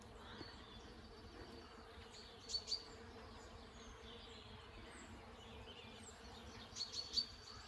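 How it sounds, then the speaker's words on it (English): Bees buzz steadily around a blossoming plum tree in a spring garden, a faint, continuous hum with a few soft bird chirps rising briefly above it. "The buzzing of the bees"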